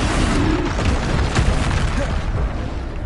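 A Bombarda spell explosion in Hogwarts Legacy on PS5: a loud, dense, booming blast that fills the whole moment, with rumbling crackle and no pause.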